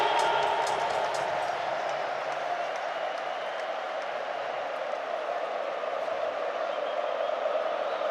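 Stadium crowd at the 2022 FA Cup final between Chelsea and Liverpool, a steady, distant wash of crowd noise and applause with a faint scattered clapping texture, holding level throughout.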